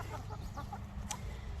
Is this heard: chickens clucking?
yes